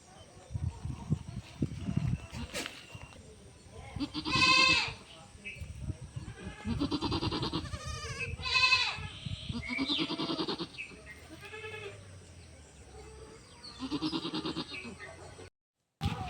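A goat giving birth bleats several times in loud, strained cries, with someone speaking throughout in a quiet outdoor farm setting.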